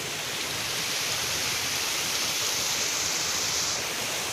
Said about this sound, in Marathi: नाल्याचं पूर्ण ओव्हरफ्लो नाला होऊन झालं